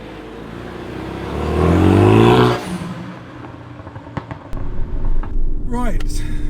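A Renault Megane Trophy hot hatch accelerates on a back road, its engine climbing to a loud rising rev before the note drops away, then someone speaks over a low idling rumble.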